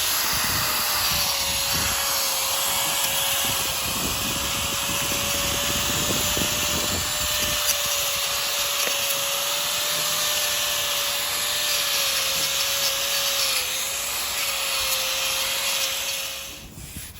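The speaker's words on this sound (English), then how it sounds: "the most quick way that we found to do that, is with a wire wheel on a grinder" Grinder fitted with a wire wheel cleaning out concrete control joints before sealing, a loud steady whine with a constant tone and scraping grit, running continuously close up before cutting off at the end.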